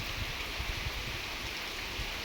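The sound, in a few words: rain falling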